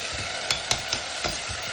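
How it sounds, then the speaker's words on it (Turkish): Tomatoes sautéing in a pan for a home-style stew, a steady sizzle with a few sharp scrapes and taps of a utensil stirring against the pan at irregular intervals. "Domateslerimle de birlikte domatesler eriyene kadar kavuracağım."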